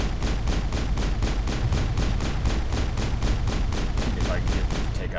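Rapid automatic gunfire from Mass Effect rattles in a loud, even stream of sharp bursts, about four per second, continuing unbroken throughout.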